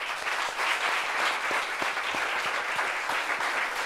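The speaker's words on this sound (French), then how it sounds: "Applaudissements pour Lazare." A studio audience applauds a guest named Lazare on a French talk show set, a dense steady wash of many hands clapping at once, fairly loud and close, with no speech over it.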